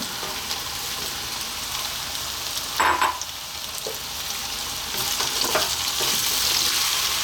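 Cabbage stirred in a frying pan with spices and oil for an Ethiopian cabbage and potato dish, a steady sizzle broken by utensil scrapes and clatters, growing louder toward the end.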